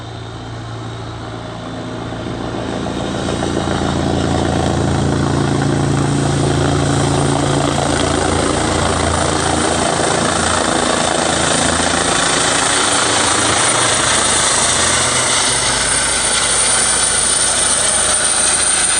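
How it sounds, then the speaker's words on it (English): A NASA Airbus H135 helicopter's engine and rotors spool up from a quieter start into a loud, steady whine and throbbing rotor drone that holds close and constant. "This is a NASA helicopter."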